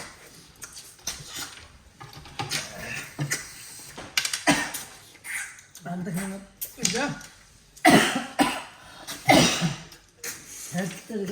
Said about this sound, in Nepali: खोक्दै हो